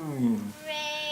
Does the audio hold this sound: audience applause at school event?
no